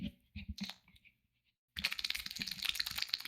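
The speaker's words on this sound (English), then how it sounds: "It sounds like someone's shuffling cards that are wet." A person presses a cheek against a microphone and makes a wet, slapping, crackling noise, in short bursts at first and then a dense flapping rattle after a brief silence, close and intimate.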